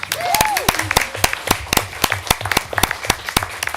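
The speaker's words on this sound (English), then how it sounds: "Round of applause for the Silas." Sparse clapping from a small group at a school board meeting, individual claps spaced unevenly, with a brief voice at the start.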